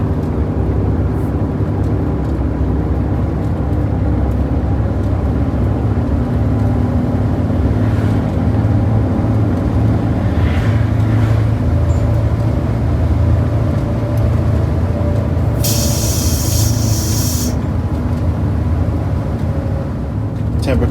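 A car climbs a hill with a loud, steady low engine and road rumble that holds constant throughout, plus a brief hiss partway through.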